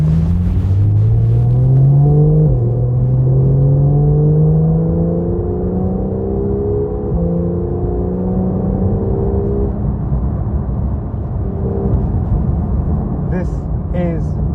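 A Porsche 911 Carrera GTS of the 991 generation revs through manual downshifts, a deep engine note stepping up in pitch with each shift before settling into a steady, close rumble.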